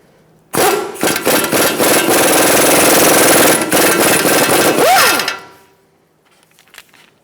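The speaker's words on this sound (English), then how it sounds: "we're going to use a 17mm socket and we're going to take off the tie rod nut" An impact gun with a 17mm socket removing a tie rod nut on a 2012-2019 Fiat 500, one loud close sustained hammering burst of about five seconds that winds down at the end.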